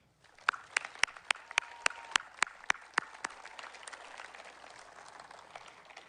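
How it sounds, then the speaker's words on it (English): A short burst of clapping at a graduation ceremony, about a dozen sharp claps spaced roughly evenly, followed by a fading murmur of scattered applause in a room. "join me in a special round of applause to thank our parents, teachers, guardians, and staff"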